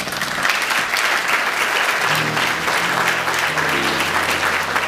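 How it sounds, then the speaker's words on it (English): An audience applauds loudly and steadily, dense clapping filling the whole stretch, with faint voices and a few sustained tones coming in partway through. "Let's hear it for Remi."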